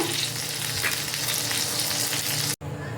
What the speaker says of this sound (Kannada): ಪನ್ನೀರನ್ನ ಹಾಕ್ಕೊಂಡು 4 ಸೈಡಲ್ಲೂ ಫ್ರೈ ಮಾಡ್ಕೊಬೇಕು